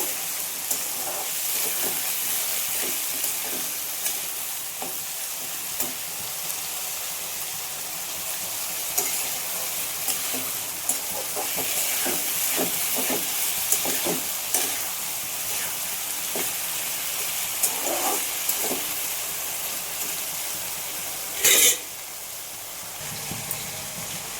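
Raw banana pieces fry in a pan over tempered spices for a home-style banana stir-fry, a steady close sizzle with occasional stirring clatters and a brief louder burst near the end.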